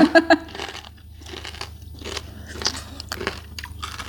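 Loud, close crunching bites into crispy Thai-Lao pork belly (moo krob), a rapid cluster of sharp crunches followed by irregular chewing crackles.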